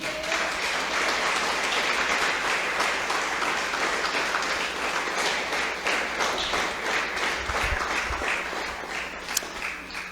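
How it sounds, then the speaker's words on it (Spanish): A church congregation at an anniversary service claps together in sustained, dense applause, loud and continuous for about ten seconds, with no speech over it. "Denle un aplauso al Señor"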